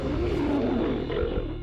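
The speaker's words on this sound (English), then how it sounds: "The mega lion." Deep, sustained roar of a prehistoric mega lion, a giant Ice Age cat, loud and close, one continuous growling bellow filling the whole moment with no speech over it.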